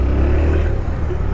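Hero Glamour X125 motorcycle engine in power mode, a steady low rumbling drone held close and loud with a slight swell, no voices.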